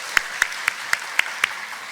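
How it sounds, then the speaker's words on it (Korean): A church congregation applauding its choir during a worship service, heard as six sharp, evenly spaced claps about a quarter second apart, crisp and fairly close, with no speech over them. "다시 한번 여러분 박수로 한번 격려해 주시기 바랍니다."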